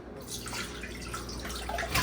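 Canned yams, thick juice and chunks, glug and splash as they are poured from a can into a dish, close and continuous.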